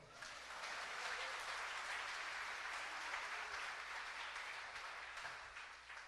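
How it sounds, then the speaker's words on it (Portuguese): A church congregation applauding during a sermon, a dense, even wash of many hands clapping that holds steady throughout, somewhat distant and soft. "Aplaudam o Senhor."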